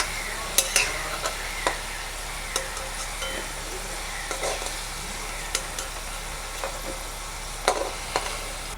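Potatoes finishing in hot oil give a steady close sizzle, broken by a series of light clinks and scrapes as the pieces are lifted out one scoop at a time.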